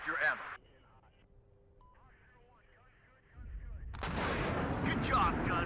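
Gunfire from units in the WARNO video game: after a few quiet seconds, a loud, dense burst of shooting erupts and keeps roaring on to the end.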